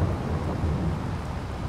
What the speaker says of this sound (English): I love thunderstorms.